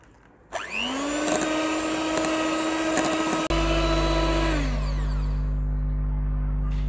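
An electric beater whirs steadily while whipping cream for homemade vanilla ice cream, a loud close motor whine that holds its pitch for a few seconds before winding down, then a low steady hum continues alone.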